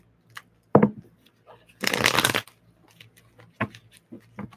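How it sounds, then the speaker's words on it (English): Tarot cards shuffled by hand: a short riffle, then a longer dense burst of flicking cards, followed by a few soft taps and settling sounds, close and fairly quiet. "that was a very clean shuffle"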